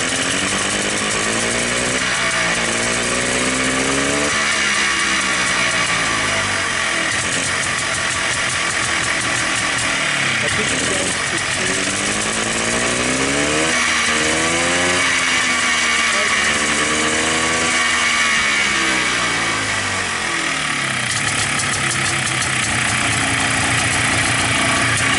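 The engine of a Polaris Xplorer 250 ATV fitted with a Yamaha Blaster carburetor runs loud and close, rising and falling through repeated revs over a steady idle, with a voice speaking over it now and then.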